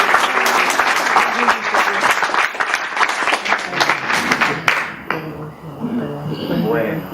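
An audience at an author event applauds the author's mother with loud, dense clapping from a roomful of people for about five seconds, then the clapping fades as a voice begins speaking.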